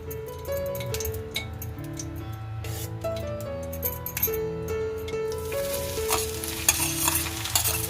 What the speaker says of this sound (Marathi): मी आधी कढईमध्ये ना दोन चमच घी घालून घेते